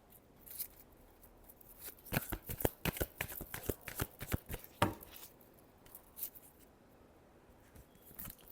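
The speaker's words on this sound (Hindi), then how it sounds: "और मैं कार्ड शफल करूंगी।" Tarot cards being shuffled, a quick series of crisp riffling snaps and flicks, close and fairly quiet, with scattered softer card taps around them.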